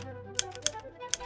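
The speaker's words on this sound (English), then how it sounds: "As she hears the commotion of typewriter keys" Typewriter keys clack in three sharp, separate strikes spaced irregularly, standing out over a steady low hum, with no voices.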